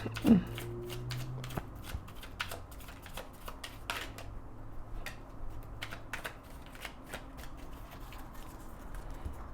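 Tarot cards are shuffled in a rapid riffle and a burst of papery flutters, followed by a long run of soft, irregular taps and slides of cards being handled at close range.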